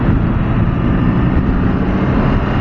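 A 2024 BMW K 1600 GT six-cylinder sport touring motorcycle cruises in third gear at about 4,000 RPM, a loud, smooth, continuous engine drone mixed with rushing wind roar.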